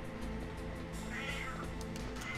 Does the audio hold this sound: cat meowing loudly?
yes